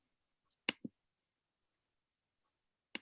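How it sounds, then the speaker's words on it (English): A few sharp, isolated claps sound in near silence, two close together, then a pause before a single final clap. "I think she's clapping."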